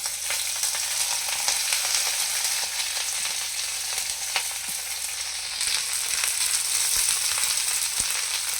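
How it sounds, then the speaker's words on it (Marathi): Potato and eggplant pieces sautéing in oil for a winter vegetable dish, producing a continuous bright sizzle with faint stirring clicks and no voices. "आता आपण घेतलेल्या सर्व भाज्या आहेत ना, आपण तेलावर जरा परतून घेणार आहोत."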